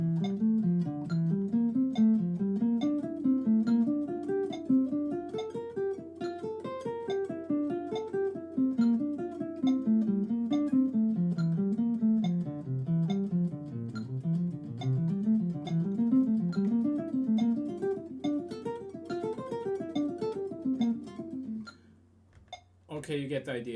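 A jazz guitar plays a steady stream of fast sixtuplet runs, with notes rising and falling in rapid, even groups for over twenty seconds, clear and close, ending with a few scattered plucks.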